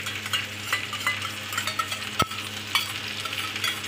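Fried potatoes for crispy chilli potato are mixed with tomato ketchup and red chilli sauce in a pan, making a steady sizzle under light scraping and one clear metallic clink, close with no talking.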